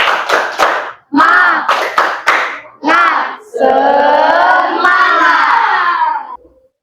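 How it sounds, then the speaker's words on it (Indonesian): A class of children in a classroom does a rhythmic clapping chant, with bursts of claps and shouted calls followed by a long group cheer, loud and close. "Tepuk semangat."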